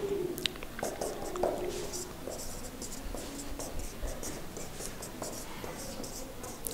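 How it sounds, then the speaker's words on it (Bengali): Handwriting by a chemistry teacher noting d-block elements, a soft continuous scratching of pen or chalk strokes, close and steady, under quiet talk. "যে এগুলো ধরো একটু লিখি আমরা"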